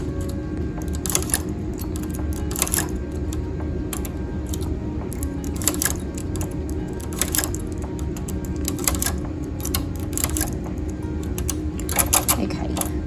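On a knitting machine, a steady low mechanical hum runs beneath repeated light clicks and ticks as stitches are moved between needles, close and even-paced throughout, with no voices.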